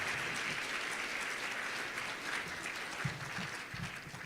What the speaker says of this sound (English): let's recognize you and give you a round of applause